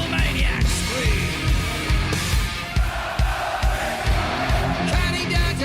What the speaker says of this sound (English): more of those big metal maniacs scream